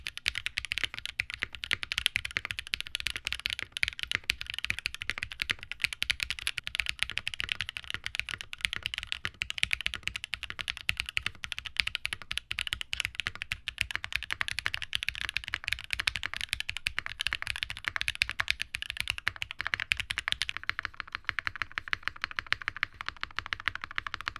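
Fast, continuous typing on a Freebird TKL mechanical keyboard with foam case dampening and pads under the spacebar stabilizers, a dense stream of close clacky keystrokes holding steady for over twenty seconds, alone without talk.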